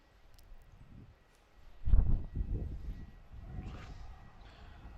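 A Malaysia Airlines Airbus A330-300 airliner arriving at Melbourne Airport, heard as a distant low engine rumble that swells briefly and then settles into a steady background roar.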